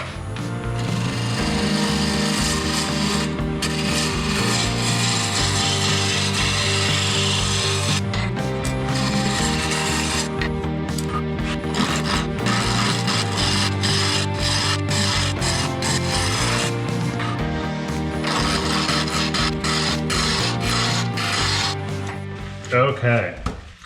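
A freshly sharpened tool cuts wood on a lathe while a French rolling pin is shaped. The cutting makes a loud, steady, continuous scraping rasp that goes on for the whole stretch, close by, with a steady hum underneath.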